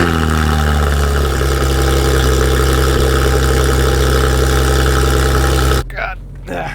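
A 2019 Porsche 911 GT3 RS engine idles with a loud, steady low rumble and mechanical hum, someone talking over it, before the sound drops off abruptly near the end.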